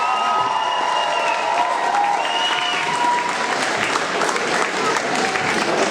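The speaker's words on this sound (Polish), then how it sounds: "prosimy o gorące brawa" Warm applause from an audience at a school event, a steady wash of many hands clapping throughout, with a few voices and faint tones underneath.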